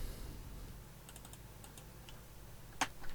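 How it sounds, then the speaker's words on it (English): Soft keystrokes on a computer keyboard as a tempo value is typed into Cubase music production software, a few scattered light clicks followed by one sharper tap, faint and close with no talking. "Then you come to this place and type in the tempo."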